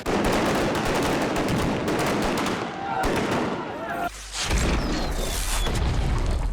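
Gunfire crackles on the film set of 13 Hours, loud rapid bursts filling the first half, with a heavy thud and further shots following.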